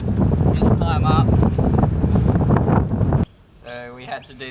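Heavy wind batters the microphone outdoors in a loud, steady rumble with a voice speaking through it, then cuts off abruptly into quieter indoor speech for the final second.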